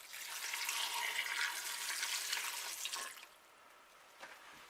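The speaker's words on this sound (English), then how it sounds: "Put the lye solution in there." Hot lye solution at about 170°F is poured onto oils for soap making, giving a steady, close liquid pouring rush for about three seconds before it tapers to a few faint drips.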